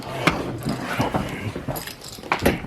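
Car keys jangle in short, scattered metallic bursts near the microphone, turning up while a transfer case is being removed from a car in a home garage.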